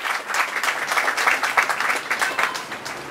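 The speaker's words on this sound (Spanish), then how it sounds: "Para ellos sí pido un fuerte aplauso" Applause at a dairy inauguration in a rural community, with a crowd clapping steadily and evenly at moderate loudness throughout.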